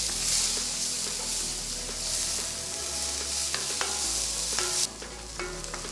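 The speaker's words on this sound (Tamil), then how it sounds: "இதில் 2 பெரிய வெங்காயம் பொடியை நறுக்குனது போட்டு கிண்டுங்க." Two large chopped onions are stirred in two tablespoons of oil on a wide iron tawa for egg tawa pulao, with a steady close sizzle and scraping spatula strokes and clinks throughout.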